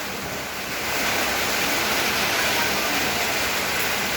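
A steady, heavy roar of wind and rushing rain fills the whole clip, dense and unbroken, swelling slightly after the first second.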